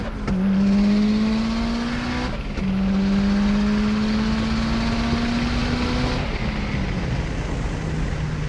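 Tuned Mitsubishi Evo 9 with added boost and fuel, engine running loud and close, holding steady revs in two long pulls with gear-like steps, a droning hum that eases off near the end.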